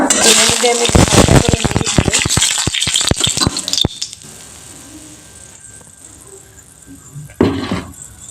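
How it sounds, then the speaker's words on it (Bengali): Black cumin seeds hit hot oil with a loud burst of crackling and popping for about four seconds, then the sizzle drops to a quiet hiss with one more brief flare near the end. "তেলটা আমার গরম হয়ে গেছে এবার আমি এই তেলের মধ্যে কালো জিরে ফোড়ন দিয়ে দিলাম"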